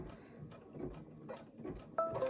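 A home embroidery machine runs a placement stitch for an appliqué number one on a bean bag toss game block, a low, steady mechanical whir with soft ticking, close and moderately quiet, brightening slightly near the end.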